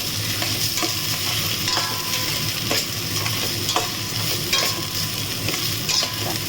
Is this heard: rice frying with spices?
yes